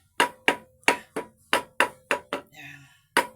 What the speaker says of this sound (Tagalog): pinupukpok ko lang konti yan